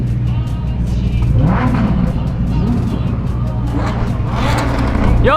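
A Lamborghini SVJ supercar revs hard, rising and falling engine roars close by over a steady idle, with people talking and shouting over it.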